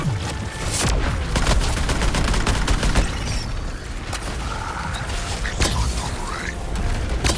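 A weapon fires in sequence in the video game Suicide Squad: Kill the Justice League. Loud, rapid bursts of sharp gunshots mix with mechanical clanks over a dense, noisy background.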